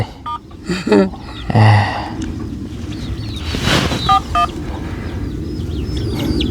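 Several short electronic phone keypad beeps sound in quick groups over outdoor background noise and wind, with birds faintly calling.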